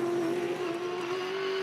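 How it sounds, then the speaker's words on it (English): A V8 Supercar sliding through a corner during a race at the Clipsal 500: a loud, sustained, close engine drone holding a steady pitch with slight waver, heard alone. "He's sliding the car."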